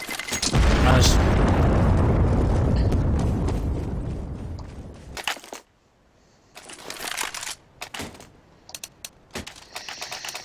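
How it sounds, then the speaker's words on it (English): A flashbang grenade detonates in the online game Aion, opening with a loud, deep boom that rolls and fades over several seconds, then gives way to scattered clicks, thuds and quieter game noises. "Throw in the flashbang."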